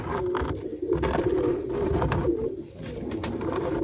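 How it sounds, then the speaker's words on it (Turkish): Pigeons coo continuously up close, low throaty rolling calls overlapping one another with a steady murmur of birds beneath. "Evet arkadaşlar bunlar benim uzun giden dediğim kuşlar"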